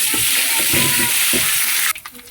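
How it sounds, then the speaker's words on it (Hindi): Garlic ginger paste frying with onions in a pot for chicken yakhni pulao, a dense steady sizzle with faint stirring scrapes that drops off sharply near the end. "अब हम इसमें डालेंगे लहसुन अदरक का पेस्ट 1 टेबलस्पून मैंने भर के डाला है।"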